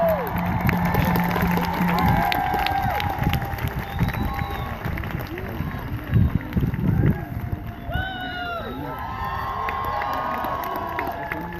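A rally crowd in Washington DC for Standing Rock claps, cheers and whoops continuously and loudly, with shouts and voices mixed into the steady applause.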